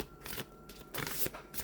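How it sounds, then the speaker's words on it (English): Matte-laminated tarot cards are shuffled overhand in quick bursts, a few close, crisp riffling slides separated by brief pauses, fairly quiet and with no talking. "they slide together quite well. Overhand shuffle."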